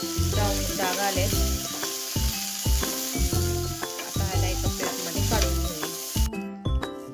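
Paneer cubes sizzling steadily in a pan over high gas, a continuous frying hiss beneath loud rhythmic background music that runs throughout.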